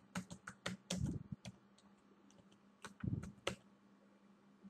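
Someone types a search query on a computer keyboard in quick clusters of crisp, close key clicks, with a brief pause between bursts and soft room tone underneath.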